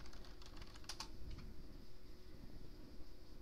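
Faint, quick keystrokes on a computer keyboard while an IRC command is entered, a short burst of soft clicks early on over a low steady hum.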